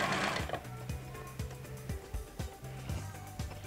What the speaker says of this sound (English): now I will be stitching the 2 together from the waistline down to the hemline